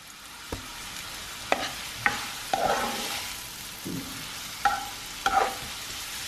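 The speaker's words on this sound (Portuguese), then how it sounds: "Então a gente vai refogar o nosso alho poró aqui, a parte branca, no azeite" Leek whites sautéing in olive oil in a pan, a steady background sizzle broken by several distinct stirring scrapes and clicks of a utensil, with no talking.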